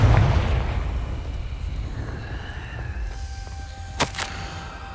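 A Confringo fire spell from the Hogwarts Legacy video game goes off in a sharp burst near the end, preceded by a rumbling low roar and a faint rising whoosh, with no talk.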